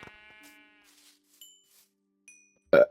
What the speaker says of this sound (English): I can just find a sheep and kill it.